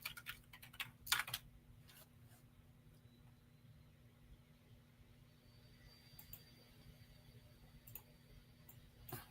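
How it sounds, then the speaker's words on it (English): Quiet keystrokes on a computer keyboard come in a few short bursts of clicks over a low steady hum, with longer gaps between taps. "I'm just going to type in royal blue."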